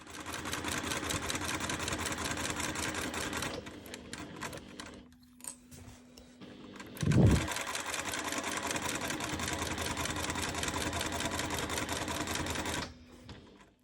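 A sewing machine stitches the seam of a fabric baby bib in two long steady whirring runs separated by a pause with a brief thump, close and loud, without speech.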